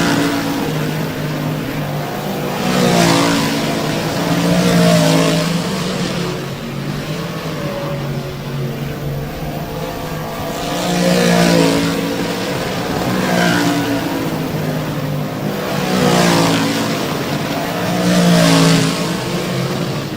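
Race cars accelerating as the green flag drops, a loud pack of engines roaring continuously with repeated surging swells as they pass and fade again.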